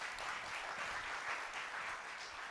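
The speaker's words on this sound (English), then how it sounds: "Give yourself a round of applause" Faint applause from a lecture audience, steady and continuous throughout, heard from a distance at low level with no voices over it.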